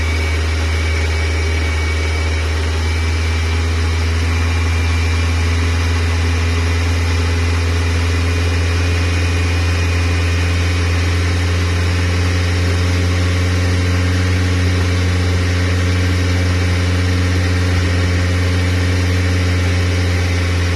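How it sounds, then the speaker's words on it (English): A Suzuki 2.3 engine swapped into a Geo Tracker idles high with a loud, steady, close-up drone and a faint whine layered over it, unchanging throughout. "And it is idling really high."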